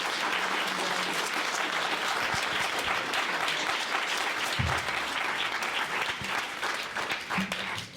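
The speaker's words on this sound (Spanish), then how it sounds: "Yo pediría un fuerte aplauso para él." Sustained audience applause at a public forum in Mexico honoring a speaker, a dense steady wash of many hands clapping from start to finish with faint background voices.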